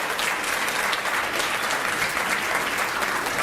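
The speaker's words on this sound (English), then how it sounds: "give her another round of applause" Sustained audience applause at a fundraising dinner, dense clapping from a sizable crowd holding at an even, moderately loud level with no voices standing out.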